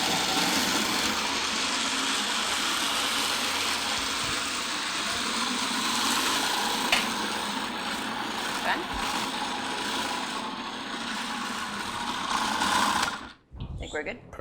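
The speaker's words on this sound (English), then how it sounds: "you can blend it till it's a little more puree" A countertop blender runs continuously, loud and steady, pureeing a pear, fig and pumpkin seed mixture for about thirteen seconds before cutting off abruptly.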